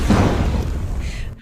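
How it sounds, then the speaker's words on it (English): A single deep explosion sound effect booms loud and close, then its low rumble decays and fades away within about a second. "All right, Mark Sabic, let's give you some explosions."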